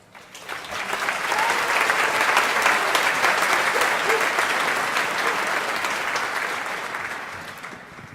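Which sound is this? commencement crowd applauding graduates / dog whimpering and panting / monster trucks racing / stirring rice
commencement crowd applauding graduates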